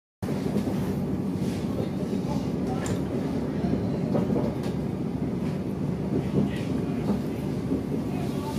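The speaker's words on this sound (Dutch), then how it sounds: "Treinen worden samengesteld," A train running at a railway museum, a steady loud rumble of rolling stock that continues without a break and stays close throughout.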